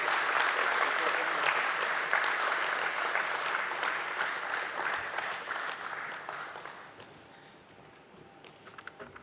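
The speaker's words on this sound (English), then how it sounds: "So please welcome with a round of applause Dr. Sushil Shah" Applause from an audience at a stock exchange listing ceremony for Metropolis Healthcare Limited: a dense, steady clapping that gradually thins and fades over several seconds, with faint voices underneath.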